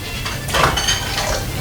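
Dishes being washed by hand at a kitchen sink with lemon dish soap, a brief soft clatter of plates and cutlery over running water and scrubbing, close up and without speech.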